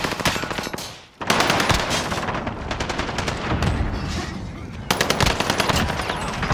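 Rapid automatic gunfire from Call of Duty: Modern Warfare, loud and close, in dense bursts that break off briefly near the one-second mark, then resume with sustained rattling and sharp crack-like shots.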